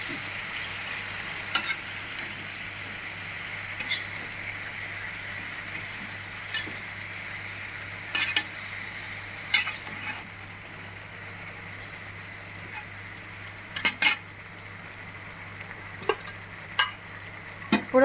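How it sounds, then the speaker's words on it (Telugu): Eggplant curry stirred in a pan with a spoon, a steady low sizzle broken by scattered scrapes and clinks of the utensil against the pan, close and alone with no talking. "సో మనం ఇలా పెద్దగా తీసుకొని కూరని చాలా జాగ్రత్తగా కలుపుకోవాలి, ఉప్పు అంతా కూరకు పట్టేటట్లుగా."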